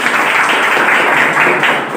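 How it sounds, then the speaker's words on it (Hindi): Audience applause for a mentor at a talk, a steady, dense wash of clapping filling the whole moment at moderate loudness with no voice over it. "इनके लिए एक बार जोरदार ताली होनी चाहिए"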